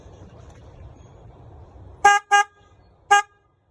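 Aftermarket loud horn fitted to a Kawasaki Vulcan 650S motorcycle, sounding three sharp, loud honks, two quick blasts then one more, over a low idle rumble.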